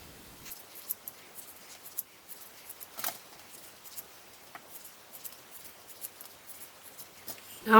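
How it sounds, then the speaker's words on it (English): Quiet, irregular snipping and clicking sounds of scissors trimming fabric corners of a sewn coaster at close range, with a louder rustle right at the end. "take some scissors and you're going to trim each corner to reduce the bulk"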